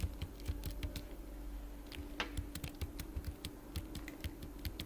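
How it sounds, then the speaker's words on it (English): Computer keyboard keys are pressed in quick, irregular clicks to move a character through a 3D maze game, a close, quiet patter of keystrokes with no talking. "if we want to switch between the maze floors, we can press on the page up and down button"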